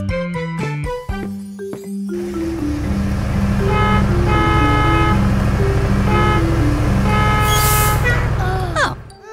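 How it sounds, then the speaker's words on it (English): Cartoon bus honking its horn while rushing, a string of loud toots at the start followed by a sustained bright horn-like musical blare, with voices talking over it. "It's Barry the bus. Looks like he's in a rush"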